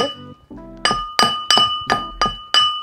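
Coconut pieces are pounded in a mortar with about six sharp, evenly spaced strikes, each ringing briefly with a bright, clinking tone.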